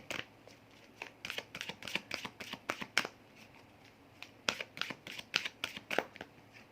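Tarot cards riffled and handled in quick bursts, crisp close-up flutters of card stock in two runs separated by a short pause, with no talking.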